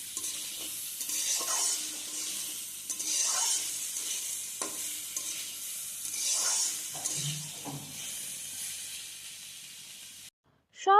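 Vegetables fry in a pan with ginger and garlic paste, a soft continuous sizzle broken by periodic scraping stirs, fairly close and moderately quiet, cutting off abruptly at the end.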